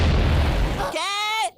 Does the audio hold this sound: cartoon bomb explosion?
yes